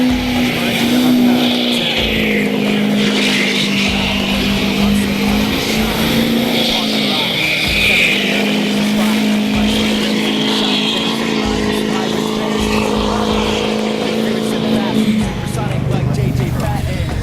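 Subaru STI drifting in a snowstorm, its engine droning loud and steady with rising and falling revs as the tires spin and slide, close by throughout the clip.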